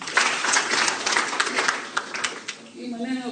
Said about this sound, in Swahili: makofi tena